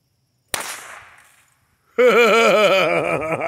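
A .22 nail gun blank set off inside a drilled golf ball makes one sharp, loud bang that rings and decays, followed after a short pause by a loud, sustained wavering tone.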